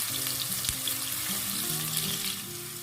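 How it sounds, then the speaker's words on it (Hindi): Half an onion frying in hot oil in a pan for pasta, a steady close hiss with a low background hum and one brief knock, continuing evenly throughout. "प्याज को सिर्फ 1 मिनट के लिए आपने फ्राई करना है।"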